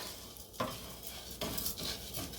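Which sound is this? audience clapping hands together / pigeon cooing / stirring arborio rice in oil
stirring arborio rice in oil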